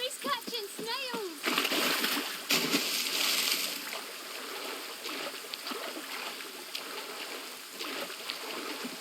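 Stream water splashing and trickling in The Witcher 3: Wild Hunt, a steady mid-loud wash of water running under intermittent voices and a brief louder splash burst.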